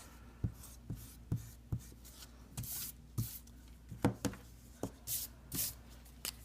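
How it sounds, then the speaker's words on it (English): A pen scratches and taps across paper while touching up a drawing, giving short irregular strokes and soft dabs, close and quiet, with a few faint rustles between them. "Take your pen, go back in, kind of touch up where you might have missed some."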